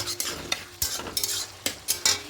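Bottle gourd curry with a little sugar being stirred in a pan, a few quick scraping strokes with soft sizzling underneath, close and moderately loud.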